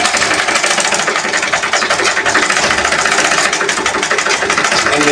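A sewing machine stitches the sleeve of a maxi dress, producing a loud, continuous, fast-pulsing mechanical whir close by, with no talking.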